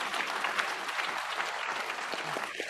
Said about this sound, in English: One more round of applause for Yeah. Sandra and Peter.